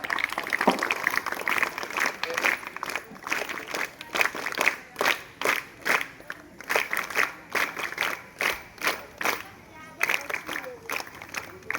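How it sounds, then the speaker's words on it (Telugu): An audience at a school Republic Day celebration breaks into a burst of rhythmic clapping that rises and fades, mid-distance, while a voice on a microphone carries on talking over it. "క్లాప్."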